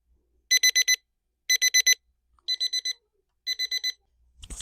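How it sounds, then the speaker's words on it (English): A standard battery-capable alarm clock sounding its alarm: four clear bursts of rapid high electronic beeps, each a quick run of four pulses, evenly spaced and loud against silence, ending with a brief rustle. "All right, so I've set my alarm."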